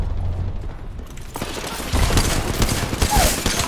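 Gunfire in the battle-royale game Apex Legends: a burst of rapid, loud shots packed together over busy game noise, with nobody speaking.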